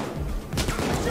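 Gunfire in the heist shooter Payday 2, a short burst of sharp shots rising midway over a noisy, busy game background with talk underneath.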